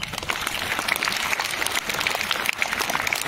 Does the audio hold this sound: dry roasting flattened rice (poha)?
no